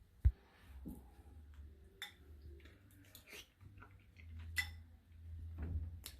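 A spoon being picked up in a quiet kitchen: faint, scattered clinks and taps of cutlery against dishes over a low background hum, with no talking.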